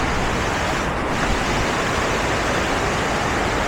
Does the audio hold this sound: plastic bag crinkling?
no